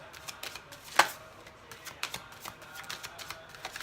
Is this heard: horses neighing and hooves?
no